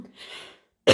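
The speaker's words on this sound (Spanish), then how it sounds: "Disculpe que voy a toser un momentico." A single short cough from a woman with a cold, preceded by a faint breathy sound and a brief silence, close and fairly loud.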